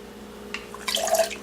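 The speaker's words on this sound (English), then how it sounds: "I'm going to just pour that right in here. And this is that teriyaki marinade sauce." Teriyaki marinade sauce is poured into a container for beef jerky, a short close liquid splash that starts softly and swells into a louder gurgling pour over about a second, with no talking.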